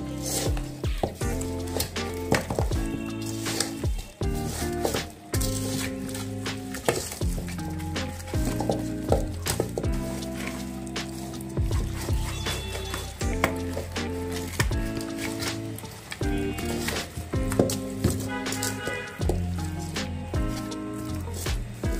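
Raw beef is mixed by hand with salt and spices for nihari, producing wet squishing and stirring sounds in uneven bursts. The sounds are close and persistent, and there is no talking.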